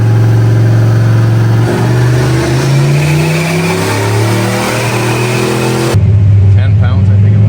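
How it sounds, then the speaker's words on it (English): A budget turbocharged Fox body Mustang engine on a dyno pull with an ignition problem, loud and close: the revs climb steadily for several seconds, then it cuts abruptly to a lower, rougher running note. "If you see here, we were making a pull in the dyno"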